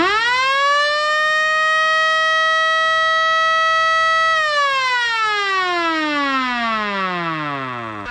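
An old air raid siren wired into a car is switched on, wailing loudly as its pitch climbs, holds a steady howl, then winds down.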